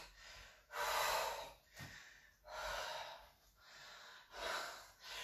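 Heavy, rhythmic breathing during a push-up workout, with three long forceful exhales spaced a couple of seconds apart and quick inhales between, close and loud with no talk.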